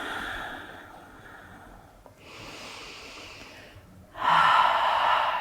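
Breathing during a yoga warrior two pose: soft, airy breaths build to a strong, close exhale near the end, with no speech.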